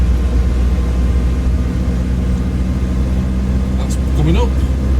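MH60 helicopter right engine starting in a flight simulator game, a continuous loud low rumble and whine filling the cabin, with someone speaking briefly near the end.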